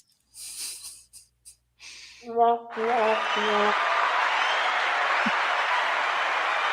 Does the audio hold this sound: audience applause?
yes